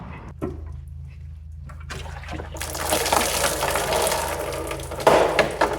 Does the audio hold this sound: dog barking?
no